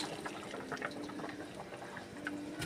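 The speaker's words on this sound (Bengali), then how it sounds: "ঝোলটা ফুটে গেছে আর মাছটা আমি দিয়ে দিচ্ছি" Pieces of fish going into boiling curry gravy, a faint bubbling, simmering sizzle with small splashes, steady and close with no talk.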